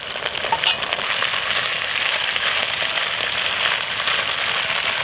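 Browned meat with potatoes, carrots and onions sizzling in hot oil in a pan at a bushcraft canoe camp, a steady close crackling fry with no voices.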